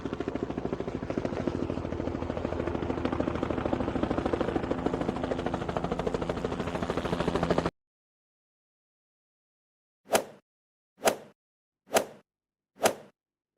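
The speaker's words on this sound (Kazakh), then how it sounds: "Бұл полиция тікұшағы." Police helicopter rotor thudding in a steady rapid chop for about seven and a half seconds, then silence followed by four short separate whooshing swishes.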